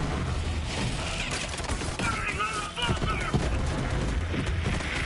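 Missiles firing in the shooter game Borderlands 3, a dense, busy barrage of launches and blasts that runs steadily throughout, mixed with speech and other game noise.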